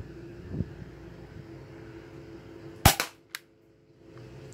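A Tokyo Marui HK USP airsoft spring pistol fires a single sharp, close crack, followed by a fainter secondary click, over a quiet background.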